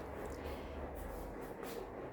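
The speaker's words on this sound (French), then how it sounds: "Il y a un train qui passe." Train passing near a small garden, a faint continuous low rumble with a few soft higher swishes, distant and steady.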